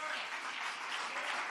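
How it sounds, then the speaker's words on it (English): An audience applauds to welcome opera performers back to the stage at a Malcolm X commemoration event, giving a brief, dense, even wash of clapping. "let's give another round of applause, another warm invitation back to the stage to Kenneth Kellogg and the Seattle Opera"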